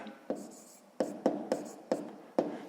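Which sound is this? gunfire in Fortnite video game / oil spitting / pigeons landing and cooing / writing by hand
writing by hand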